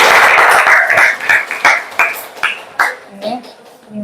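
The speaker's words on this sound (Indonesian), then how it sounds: "Oke, kasih tepuk tangan." A class applauds after a group presentation, with loud, uneven claps that come in bursts and thin out over a few seconds, mixed with students' voices.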